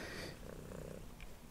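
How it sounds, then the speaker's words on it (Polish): A kitten purrs steadily and softly up close, a low continuous rumbling drone with gentle rhythmic pulses, heard faintly with no voices. "tutaj właśnie to jest właśnie ten kociak, który tutaj baraszkował po prostu w tle"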